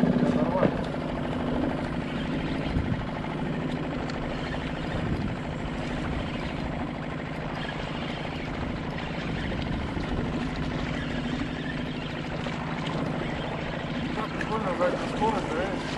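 Constant droning motor of a fishing boat trolling, fairly loud and steady, with faint voices underneath.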